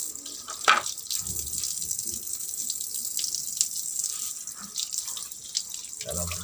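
A tap runs steadily while printer covers are washed in a sink, with a constant hissing stream, occasional splashes and clunks as the plastic parts are handled close by.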